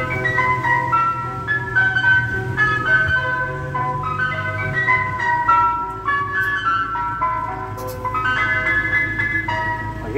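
An ice cream van's chiming jingle plays steadily and fairly loud, its melody repeating over a low vehicle engine hum throughout, with no talking.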